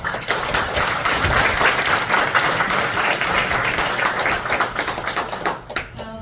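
A congregation claps after a sermon at a morning prayer service held in a National Assembly prayer room, a dense, loud and steady applause from many hands that tapers off at the end.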